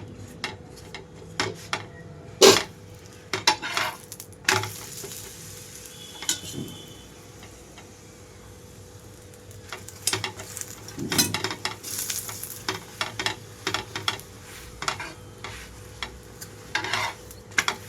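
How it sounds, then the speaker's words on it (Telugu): Moringa leaf chapati fries on a pan with oil spooned over it, giving a faint continuous sizzle punctuated by scattered sharp clicks and spoon taps against metal, with no voices. "దీనిపైన నేను ఒక స్పూన్తో ఆయిల్ వేసేసుకుంటున్నాను"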